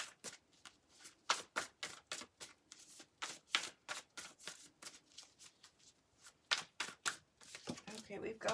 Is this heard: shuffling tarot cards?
yes